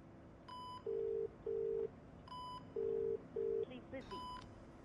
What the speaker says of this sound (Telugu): ఒకసారి ఫోన్ ట్రై చేయి.